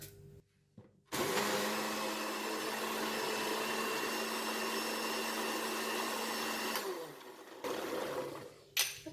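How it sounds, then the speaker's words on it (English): A blender whirs steadily, grinding coconut for chutney, loud and close, in one continuous run of about six seconds before cutting off, with brief quiet before and after. "that's done for the blending of the coconut"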